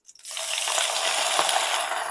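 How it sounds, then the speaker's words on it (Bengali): Cabbage frying in hot oil in a pan, a loud continuous sizzle that starts suddenly after a brief clatter and holds steady close by. "এবার আমি বাঁধাকপিটা হালকা করে ভেজে নেব।"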